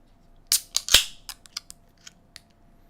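A can of strong stout is cracked open: a few sharp metallic clicks, then a loud pop and a short hiss, followed by scattered fainter clinks and ticks in a quiet room.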